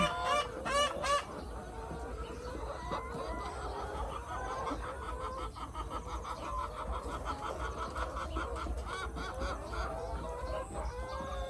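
Laying hens on a farm clucking and squawking continuously close by, with bursts of louder calls at the start, a busy flock chorus with no talk.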